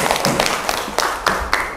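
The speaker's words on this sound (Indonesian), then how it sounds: "Bagus sekali, tepuk tangan dulu dong." Schoolroom applause in a teaching practice lesson, loud and close: a short burst of clapping with a few sharp, separate claps standing out over dense room noise, lasting under two seconds.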